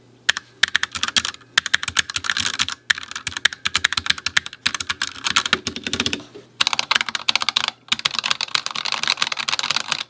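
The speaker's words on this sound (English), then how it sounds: "let's do a clicky test between the Ducky 1-2 Mini and the Razer Huntsman Tournament Edition" Rapid, steady typing on a Ducky One 2 Mini mechanical keyboard, close and loud, with dense clicky keystrokes in bursts separated by brief pauses and no talking.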